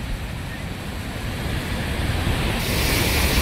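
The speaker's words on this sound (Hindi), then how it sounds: "उफनती व्यास नदी कितनी तेजी के साथ आगे बढ़ रही है" The flooding Beas river surges past in a heavy, continuous rush of turbulent water, a dense roar that grows slightly louder toward the end, with no voices heard.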